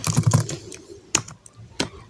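Keys clatter on a computer keyboard as a formula is typed into Microsoft Word: a quick cluster of close, crisp taps at the start, then a few isolated sharper key presses spaced out across the rest.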